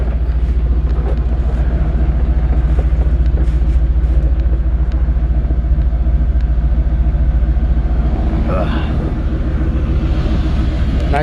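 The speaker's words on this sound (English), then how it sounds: "nice sounding exhaust." A 1953 Ford F100 pickup engine, still warming up, idles with a deep, steady exhaust rumble, loud and close, holding a constant throb with faint voices underneath.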